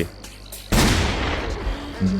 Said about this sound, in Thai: ยิงปืนรอบทิศทางเนี่ย